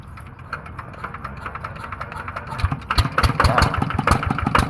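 A used motorcycle in original condition at a shop is started about two-thirds of the way through, then settles into a close, loud, chugging idle with distinct rapid pulses, with people talking in the background.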